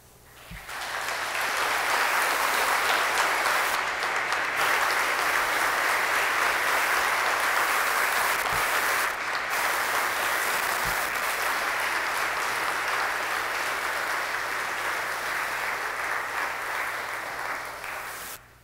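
A church congregation at Sunday mass breaks into warm applause that swells quickly and holds as a steady, dense clapping for a long stretch before tapering off.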